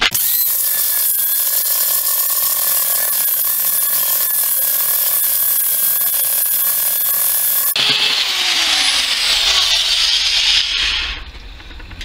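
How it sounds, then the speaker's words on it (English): A power sander works a fake silver stagecoach bullion bar in a steady, loud, high-pitched grinding whine that holds for several seconds, then shifts to a harsher, brighter scrape before tailing off, with no talk. "let's have a go at sanding it then"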